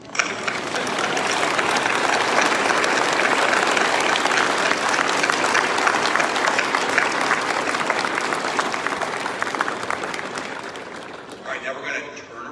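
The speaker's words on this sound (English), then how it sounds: "This is your standing ovation for what you stand for." Audience at a graduation ceremony for officer development training gives a standing ovation: dense, loud, sustained clapping that fills the room steadily before thinning out and fading at the end.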